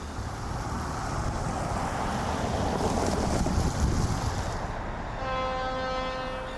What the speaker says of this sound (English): A quick jump north of downtown Palmetto before the US 41 overpass for one last shot as the train leaves town.